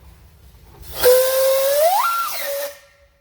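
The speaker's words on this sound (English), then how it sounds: "How about a whistle, Jimmy?" A single loud steam whistle blast from a steam traction engine at a steam engine parade, rising in pitch then settling, with a hissing rush of steam around it, alone in the open air.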